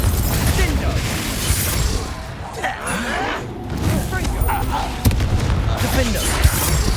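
Confringo fire spell blasts in the Hogwarts Legacy video game, a dense, loud stretch of rumbling explosions and crackling combat effects, with sharp impacts near the five- and six-second marks over continuous battle noise.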